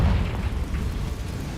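The Confringo fire spell in the video game Hogwarts Legacy bursts in one loud, deep, rumbling explosion that fades over about a second and a half.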